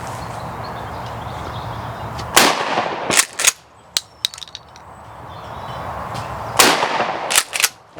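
A Mossberg pump shotgun fires at clay targets outdoors, a loud sharp blast followed by several short cracks and another blast a few seconds later, each report ringing out with quiet gaps between.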